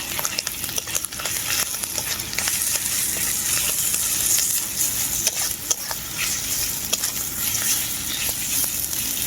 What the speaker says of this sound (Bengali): আদাটা পেঁয়াজের সাথে খুব ভালো করে ভেজে নেব